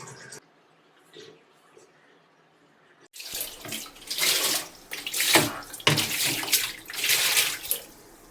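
Water drains out of a dismantled washing machine being cleaned. After a few quiet seconds the sound turns abruptly into a loud, close, continuous rushing and gushing of water that surges and splashes until the end.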